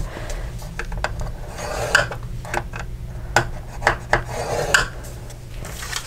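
A bone folder runs along cardstock on a scoring board, making a series of close, dry scraping and rubbing strokes with soft taps between them, at moderate loudness and with no talking.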